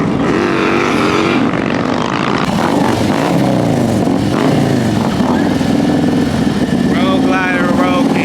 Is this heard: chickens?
no